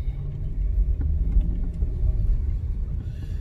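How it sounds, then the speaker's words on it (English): A car drives along a road with a steady, loud, low engine and road rumble that carries on without a break from start to finish. "Let's go for a drive."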